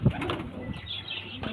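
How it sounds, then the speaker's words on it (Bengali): A male pigeon coos in low, rolling notes, with a brief burst of wing flapping at the start; the bird sounds close and moderately loud against a steady background hiss. "এই যে নর পায়রাটা"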